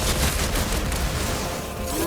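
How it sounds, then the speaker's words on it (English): Gunfire in the video game God of War Ragnarok, a dense loud burst of rapid shots and booms, continuous over a couple of seconds. "Incoming fire!"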